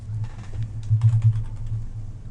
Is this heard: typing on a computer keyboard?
yes